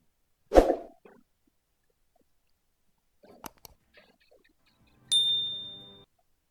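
A notification bell sound effect rings once near the end with a bright, sustained tone that fades out, after an earlier dull thump and a few faint clicks against otherwise silent background.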